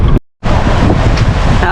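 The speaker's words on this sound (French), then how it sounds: "Ah ouais, il y a du vent." Strong wind buffets the microphone while sailing through the Camargue, a loud, rushing roar broken by one brief dropout.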